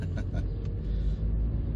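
A 2003 MG TF135's K-Series engine pulling along in gear, a low steady rumble heard close up for a brief moment, with a few faint knocks over it.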